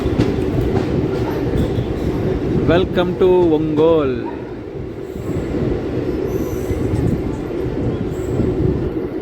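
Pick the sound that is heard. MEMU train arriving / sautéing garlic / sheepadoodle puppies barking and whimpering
MEMU train arriving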